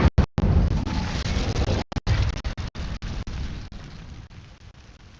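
Incendio fire spell cast in the Hogwarts Legacy video game, a loud burst of roaring flame that rushes out at once and fades in choppy, crackling pulses.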